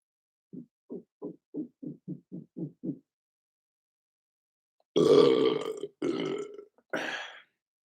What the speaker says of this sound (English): We don't have time for this burping contest.